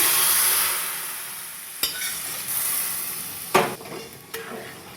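A tempering of fenugreek and asafoetida in hot oil sizzles loudly, then is poured over yogurt-based dahi puli. The hiss fades, broken by a few sharp spoon clinks and scrapes.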